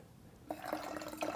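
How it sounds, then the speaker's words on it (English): Water poured from a kettle onto coffee grounds sitting on an Acaia Pearl S coffee scale during a mock brew. After a half-second of near silence, a faint, steady splashing trickle begins. "Now I can add my water."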